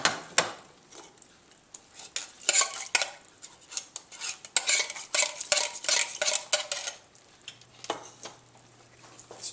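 A spoon stirring chili in a pot, irregular close scraping and clanking strokes of utensil against metal over a faint simmer, with short pauses between bursts.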